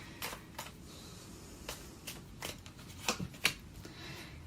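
Tarot cards are shuffled and drawn, making a series of quick, close, crisp riffles and snaps spaced irregularly over a soft background hiss, with the sharpest flicks near the end.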